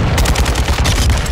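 Rapid automatic gunfire in Call of Duty Modern Warfare II, loud, close and continuous, with evenly spaced shots rattling through the whole moment and no voices.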